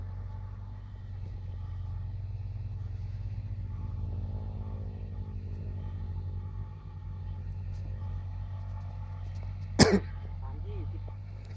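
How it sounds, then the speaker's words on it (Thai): A Thai Thong TR55 4WD tractor's engine chugs at a steady low idle while ploughing with four 26-inch discs, a continuous rumble with a brief loud throat-clearing near the end. "เสียงรถจะลอยลอยตัวรถจะลอยลอยนะฮะ เพราะว่ารถไม่ได้เร่งกำลังเครื่องมันเหลือเฟือนะฮะ"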